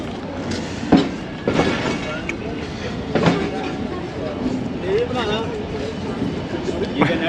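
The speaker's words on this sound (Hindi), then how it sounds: "खानेवाल जंक्शन पर तकरीबन 5 मिनट का स्टॉप करने के बाद अब चल दिए हैं।" The Khyber Mail pulls out of Khanewal Junction on a foggy winter day, heard from on board with low rumbling, creaks and intermittent wheel clacks, while people talk over it.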